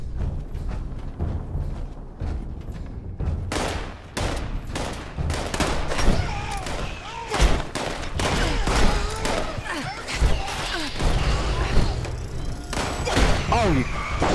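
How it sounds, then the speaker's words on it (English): Heavy gunfire crackles in a Fallout 76 firefight, with dense bursts of sharp shots and thuds that could include a pulse grenade blast, loud and continuous throughout, with a voice speaking underneath. "Pulse grenade."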